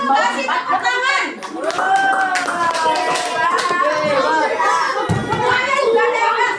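Primary-school children in a maths classroom clap together for a group, a steady patter of many hands mixed with children's voices and chatter throughout.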